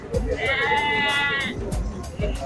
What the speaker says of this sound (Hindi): ये चेक कर लो जी एक्टिव बकरे हैं जी, एक्टिव एंड हेल्दी।